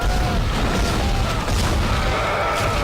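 Gunfire booms in the Dead Space video game, a loud, sustained low rumble of heavy shots and blasts that fills the clip without speech.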